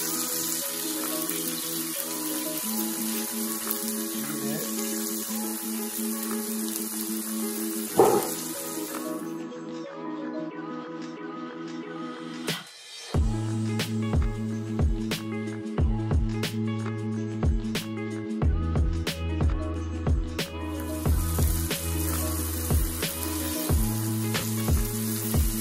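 Vegetables hitting a pan of crispy garlic for Thai drunken noodles, a steady close sizzle and watery hiss with clattering utensil knocks and scrapes throughout, no talking.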